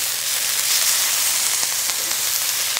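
Halibut fillet searing in a hot ovenable pan, a steady bright sizzling hiss with faint pops, close and even throughout.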